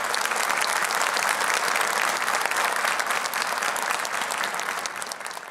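A large audience at a Quran recitation competition claps in sustained, dense applause that holds steady for several seconds before beginning to taper off near the end.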